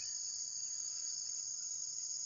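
Crickets chirp at dawn in a steady, high, continuous trill, faint and even throughout, with no talk.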